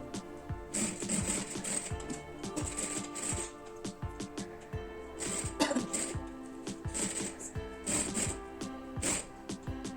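Sewing machine stitching a saree blouse, running in repeated short bursts of fast rhythmic needle clatter with brief pauses between runs, fairly close and steady.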